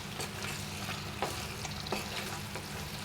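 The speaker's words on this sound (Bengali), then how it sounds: "এখন এটাকে আমি অনেকক্ষণ ধরে একটু খানিকক্ষণ সময় নিয়ে এটাকে আমি কি কষাবো" Taro being sautéed in a pan for a Bangladeshi village-style dish, with a steady broad sizzle and a few soft stirring scrapes throughout, no voices.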